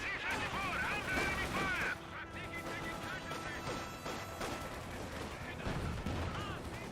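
Volksgrenadier gunfire in Company of Heroes 2, bursts of rifle and small-arms fire with sharp cracks and impacts during a battle, under a caster's continuous talk.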